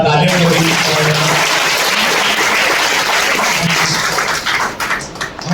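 Applause from an audience at a network marketing motivational seminar, a loud continuous wash of clapping that thins and wavers toward the end, with voices mixed in.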